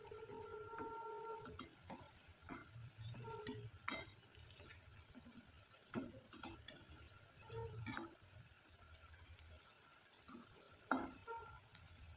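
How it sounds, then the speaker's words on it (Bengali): Rice-flour pitha deep-fry in oil with a faint, soft bubbling sizzle, broken by repeated clinks and scrapes of a utensil against the pan. "এখন আপনাদের তেলে ভেজে দেখিয়ে দিচ্ছি"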